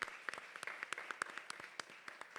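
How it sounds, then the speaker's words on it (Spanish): Brief, faint round of applause from a small audience at an entrepreneurship event in Gran Canaria, distinct individual claps rattling quickly with no talk. "les pido un aplauso aquí para don José López Favelo"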